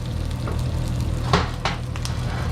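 Eggs frying sunny side up in a pan, a steady close sizzle and crackle with a few sharper pops from the hot fat as the edges crisp.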